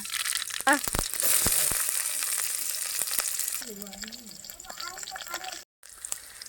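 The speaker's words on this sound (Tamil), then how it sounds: "கடுகு போட்டுக்கலாங்க" Mustard seeds crackle and sizzle in hot oil for a Tamil raw banana poriyal, a dense hiss with sharp pops and a few clinks, close and steady, while someone speaks over it.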